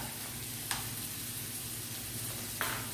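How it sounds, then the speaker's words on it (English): Onions sizzle steadily in a pan for curry vegetables, a constant close frying hiss broken by two brief utensil clicks. "Cook these onions up."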